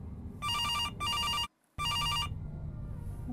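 A ringing phone in an indie game sounds off in three steady electronic bell bursts, loud and near, with a brief drop to near silence between the second and third rings over a low background hum.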